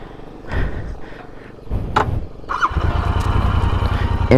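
A Royal Enfield Continental GT 650 motorcycle is started: a brief starter crank catches almost instantly and settles into a steady, close idle rumble.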